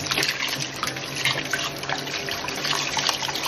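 Fresh water runs from a kitchen tap while Jamaican ackee and saltfish is being prepared, a steady close splashing stream with small drips and trickles, no voices.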